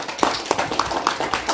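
A handful of people clap at a poetry recitation event, a few distinct close claps in an uneven rhythm, brief and sparse rather than a full ovation.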